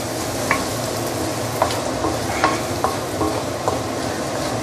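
Curry powder frying in a pan over low heat, a steady soft sizzle with a few scraping stirs of a utensil at irregular intervals, close and moderately quiet, no voices.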